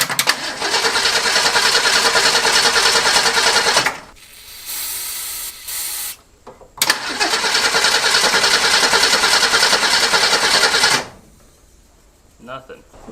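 A rare Ford Durango with a Duraspark ignition, left sitting nine years, cranks loudly after a shot of brake clean: two long cranking bursts of about four seconds each, split by a short pause, without catching. Quiet movement follows.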